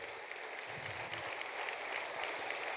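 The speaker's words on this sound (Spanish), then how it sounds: "Dale un aplauso al que vive por los siglos, al que resucitó para no ver más muerte." A church congregation claps, a faint, fairly distant and steady patter of many hands continuing throughout.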